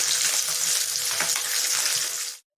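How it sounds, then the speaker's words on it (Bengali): Rui fish pieces marinated in salt and turmeric fry in hot oil with a steady, dense sizzle and crackle that runs unbroken and close, then cuts off abruptly near the end. "রুই মাছটা এইভাবে লাল লাল করে ভেজে নিতে হবে।"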